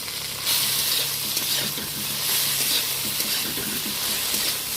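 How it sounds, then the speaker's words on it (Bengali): Sliced okra fries in oil in a pan, giving a steady close sizzle with soft stirring clicks throughout and no speech. "এখন ঢ্যাঁড়সটা বেশ হালকা ব্রাউন কালারের করে আমি ভেজেই নিলাম।"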